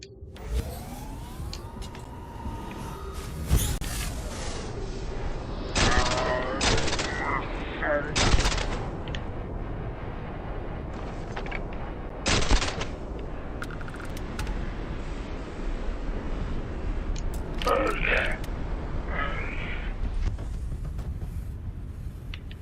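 Gunfire in the video game Starfield Shattered Space: several sharp, loud bursts and single shots scattered across a busy mix of game sounds, with a voice talking at points.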